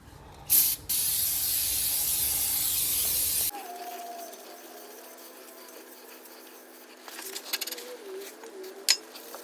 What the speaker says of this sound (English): I'm gonna go ahead and clean up, brake clean this whole area, make sure it's spotless